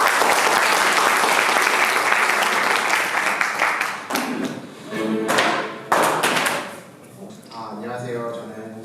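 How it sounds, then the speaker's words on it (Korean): Applause at a Korean forum welcomes a company CEO to the stage, loud clapping that fades after about four seconds, followed by microphone thumps, footsteps and a voice beginning to speak. "큰 박수 부탁드리겠습니다."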